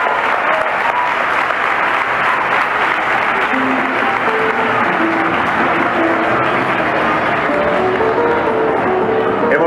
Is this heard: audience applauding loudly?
yes